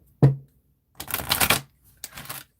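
Playing cards being shuffled: one sharp riffle snap, then two longer bursts of rapid fluttering card riffles, close and fairly quiet.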